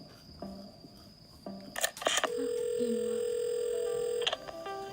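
Telephone handset in the video game Assemble with Care: brief clicks and short beeps, then a steady close dial tone lasting a couple of seconds before cutting off.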